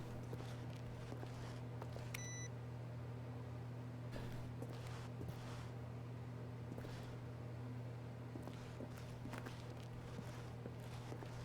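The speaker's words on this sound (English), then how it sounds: "Beep." A short electronic beep with stacked tones sounds once in The Stanley Parable, over a steady low hum and soft, scattered footstep-like taps.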